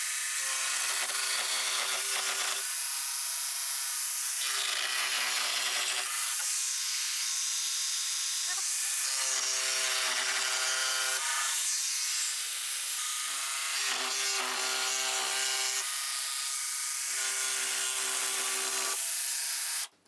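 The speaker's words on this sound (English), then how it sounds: "So we've cut the top using the jigsaw." A jigsaw cuts through pine pallet planks, its loud, harsh buzzing blade running in long passes with brief pauses between cuts.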